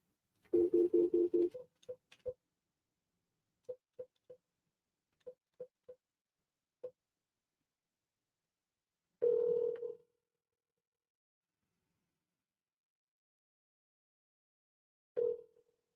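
An unanswered telephone call ringing back over the line: a burst of tones, several short ring pulses spaced a second or so apart, then two longer tones separated by long silences, thin and quiet.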